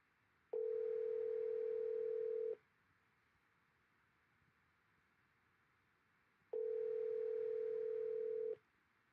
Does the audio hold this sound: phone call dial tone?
yes